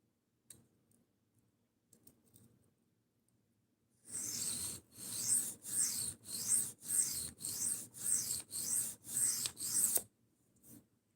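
Sharpening a knife blade bevel, about eight evenly spaced rasping strokes against the stone in a steady back-and-forth rhythm, close and clear after a few seconds of near silence.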